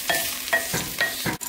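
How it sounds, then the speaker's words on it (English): Brown lentils being stirred in a pot, four distinct scraping, swishing strokes at a steady rhythm, close and moderately loud with a faint sizzle underneath and no talking. "Give that a good little stir."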